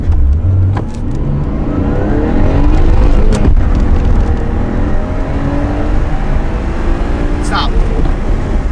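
A 1991 Nissan Skyline GTS-t with a 2-liter RB20 turbo engine accelerates hard from a launch, its loud engine climbing through the revs with rising harmonics and a brief gear change, recorded close up; a voice is briefly heard underneath.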